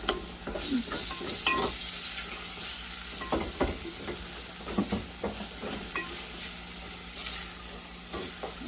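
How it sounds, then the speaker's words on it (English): Ground hamburger meat sizzles and crackles in a pan for spaghetti sauce, with repeated scraping stirs and utensil knocks breaking through a steady frying hiss. "just let that hamburger cook up really nice"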